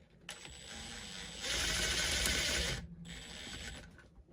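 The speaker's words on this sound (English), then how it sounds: "I've got one of these shoulder screws, self-tapping, going into the plastic" A self-tapping shoulder screw being driven into the plastic chassis of a Tamiya FF01 radio-controlled car, giving a close, steady grinding whir that swells louder midway, then stops briefly before resuming, with no talking.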